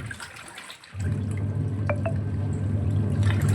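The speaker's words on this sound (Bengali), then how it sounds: "জলটা এখানে পড়তে থাকুক কোনো অসুবিধা নেই" Water from a washed cloth falls and drips into a basin, a few distinct drops standing out over a steady trickling wash that starts abruptly and stays close.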